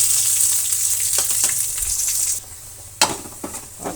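Mustard seeds, curry leaves and onion fry in hot oil for a sambar tempering, a close steady sizzle that suddenly drops away, followed by a sharp burst and a couple of quieter clinks and spits.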